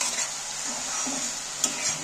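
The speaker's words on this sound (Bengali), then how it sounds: "মশলাটা কিন্তু আমার ভাজা হয়ে এসছে" Masala paste of tomato, ginger and garlic sizzling in oil in a pressure cooker pan while a spoon stirs it, with a steady hiss and a sharp scrape of metal near the end.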